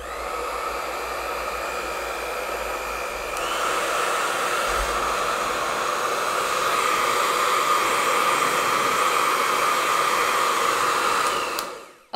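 Conair Infiniti Pro hair dryer running on its ion setting, a steady loud whooshing blow close to the mic that steps up in intensity partway through and cuts off at the end.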